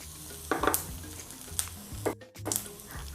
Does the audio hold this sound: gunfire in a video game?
no